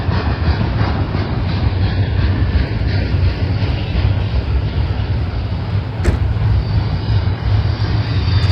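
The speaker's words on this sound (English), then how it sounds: "this train is a monster" A heavy freight train rumbles past on the main track at Silverwood, a continuous dense, loud roar of wheels and cars with a brief sharp clank partway through.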